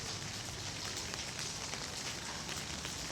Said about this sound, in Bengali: আমাদের এখানে তো প্রচুর বৃষ্টি হচ্ছে, একটানা বৃষ্টি বাংলাদেশের মতো